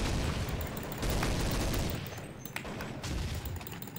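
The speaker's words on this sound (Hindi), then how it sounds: "चारों तरफ से बेचारे गोलियां पड़ रही।" Dense, continuous gunfire from Counter-Strike 1.6 on a snow map, with rapid overlapping shots and loud bursts filling the whole stretch, no talk over it.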